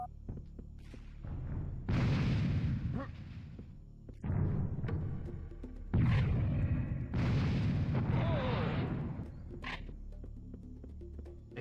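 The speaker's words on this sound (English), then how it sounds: "Take care of that pesky cannon." A charging cannon in a video game fires in repeated heavy booming blasts, several loud bursts spaced a few seconds apart with rumbling tails.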